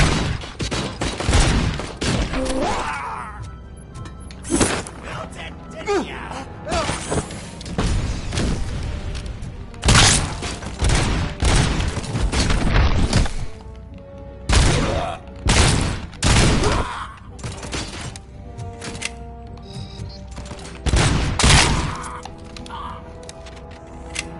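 Criminals open fire on Robocop in Robocop: Rogue City, with dense bursts of gunfire and booming impacts crackling loudly and repeatedly, broken by brief lulls.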